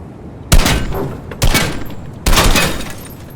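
Gunfire in the video game Fortnite hits a car in three loud, sharp bursts, each a crack with a shattering rattle trailing off, spaced about a second apart.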